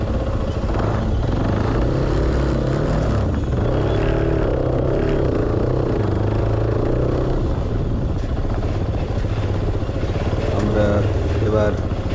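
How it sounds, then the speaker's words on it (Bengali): Motorcycles and other vehicles idle and creep through a traffic jam near Farakka barrage. A continuous, loud engine drone fills the scene with small rises in revving, and people talk over it. "যেটা ফুটপাথ সেটা দিয়ে মোটরসাইকেল নিয়ে আসছে মোটরসাইকেল যাচ্ছে"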